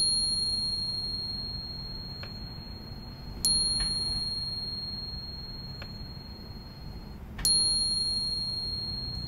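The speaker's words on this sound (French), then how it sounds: "En 2006, Seiko présenta la Credor Spring Drive sonnerie, bénéficiant du silence quasi total du mouvement pour offrir une sonnerie aussi pure que possible." A Seiko Credor Spring Drive sonnerie watch from 2006 chimes twice, each strike a clear high bell tone that rings out and slowly fades over a low, steady background hum.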